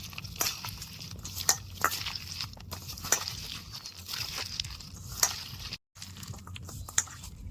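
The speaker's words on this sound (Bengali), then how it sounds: "এই পেঁয়াজ আর টমেটো না হাত দিয়ে ভালো করে একটু আগে কচলাই নেব" A hand squeezes chopped onion and tomato in a bowl, giving repeated close, wet squelches in an uneven rhythm.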